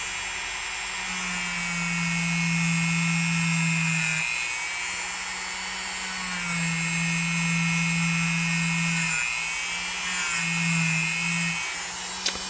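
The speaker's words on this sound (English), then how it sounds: "across here, we can get rid of a little bit more of that rust." A rotary tool with a small abrasive attachment scrubs rust off a vintage colonial electrician's knife, a high buzzing whine that rises and dips in pitch through repeated passes over about twelve seconds.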